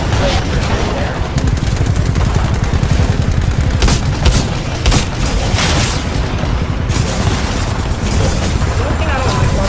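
EVA-8 Auto shotgun fire in Apex Legends, loud repeated booming blasts layered over dense in-game battle noise, with continuous heavy rumble and bursts of gunfire.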